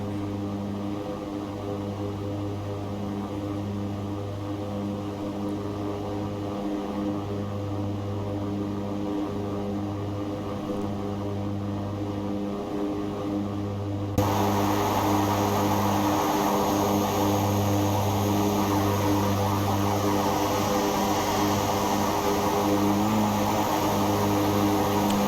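Aircraft engine in the X-Plane 11 flight simulator, a steady droning hum with a pulsing low tone that jumps louder and brighter about halfway through, then holds.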